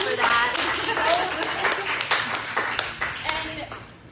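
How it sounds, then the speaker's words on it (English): An audience at a political group's general meeting claps together, a dense burst of hand claps that rises quickly, holds for a few seconds, then tapers off near the end. "We can clap for that."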